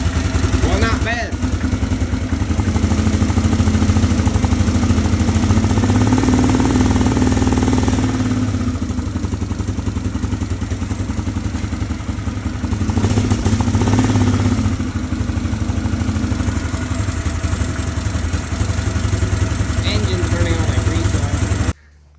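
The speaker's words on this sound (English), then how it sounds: "Carb ain't quite adjusted right or something." 2001 Yamaha Grizzly 600 4x4 ATV engine, carburetor out of adjustment, running loud and close with a rough, clattering idle that rises and dips in places, and a voice talks over it at times.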